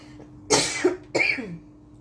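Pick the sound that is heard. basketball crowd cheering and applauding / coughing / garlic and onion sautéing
coughing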